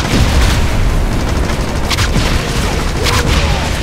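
Rockets fired in Wolfenstein (2009) during a castle boss fight, heard as a dense, loud rumbling barrage of booming blasts that fills the whole stretch with no clear gaps.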